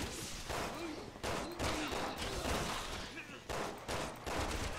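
Gunshots in the video game Resident Evil 6, a steady barrage of loud, dense shots in overlapping bursts with brief dips between volleys, with no speech.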